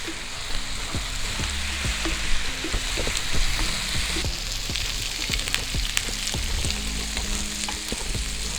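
Prawn masala fries on low heat until dry, a dense close sizzle broken by frequent crackles and spatters as the spoon works through the pan, with no talking.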